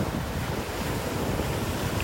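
Steady, loud wind buffets the camera microphone on a beach walk at sunset in North Naples, Florida, with ocean surf rolling underneath as a constant roar and no voices.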